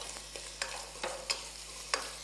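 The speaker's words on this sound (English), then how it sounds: "So just saute this together." Ingredients sauteing together in a pan, a soft sizzle broken by a few crisp spatula scrapes and taps at irregular intervals, quiet and close over a faint steady hum.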